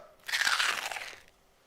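A single close, crisp bite into a freshly peeled banana, one short burst of crunching that lasts about a second and then fades, with no voices.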